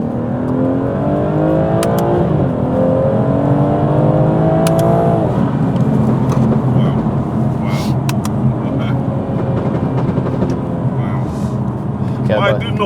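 A flash-tuned BMW 440i accelerates hard from inside the cabin, the engine note climbing steadily through the gears with a drop at each shift, loud and continuous beneath occasional voices.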